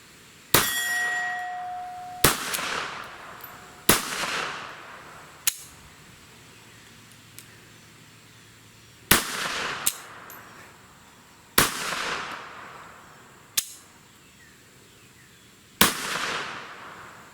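A Jennings Bryco pistol fires a magazine, about nine sharp loud shots spaced one to two seconds apart, each ringing briefly with a metallic tail, with quiet between them.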